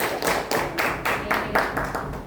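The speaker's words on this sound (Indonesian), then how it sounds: "Tepuk tangan untuk kelompok 3." A small group of students claps in a steady, moderate rhythm for a couple of seconds, the sound fairly soft and close by.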